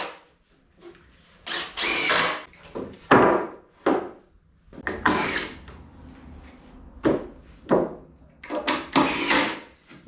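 A power drill drives screws into a wooden shed ramp in short, loud, repeated bursts of whirring, with pauses and a few knocks of wood between them.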